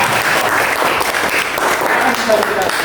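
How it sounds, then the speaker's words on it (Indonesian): A classroom audience claps steadily for a student group's presentation, a dense, even patter of applause heard up close for the whole stretch. "kita kasih aplaus untuk penampilan kelompok 3"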